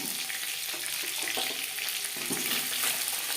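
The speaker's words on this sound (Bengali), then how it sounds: "প্রথম ব্যাচে মাছ ভাজা" Snakehead fish pieces fry in hot oil with a continuous bright sizzle and occasional stirring scrapes, close and steady, with no talk.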